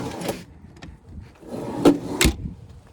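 A wheel well drawer on a 2022 Chevrolet G4500 McCoy Miller ReMAN vehicle slides and thuds, with a few scraping rolls and two sharp knocks as it opens and shuts close by, with no talk.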